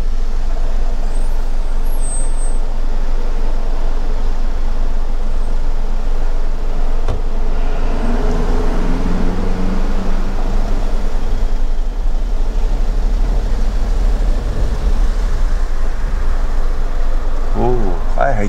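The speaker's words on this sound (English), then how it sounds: "Lots of traffic here in Sliema." Heavy road traffic in Sliema, Malta, a continuous low rumble of engines with passing vehicles and a brief air brake hiss, steady and loud throughout under a voice.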